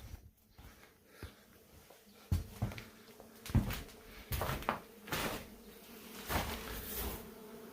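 Wasps buzzing behind a wall rise and fall in uneven bursts, mixed with scattered knocks and rustling handling noises nearby; no one speaks.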